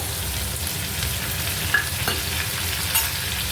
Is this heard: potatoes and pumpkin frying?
yes